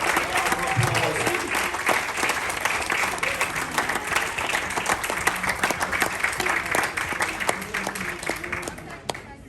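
Sustained applause from the crowd at the Pride of Formby Awards 2022, a fast, even clatter of many hands near and far, with a few voices and cheers mixed in at the start.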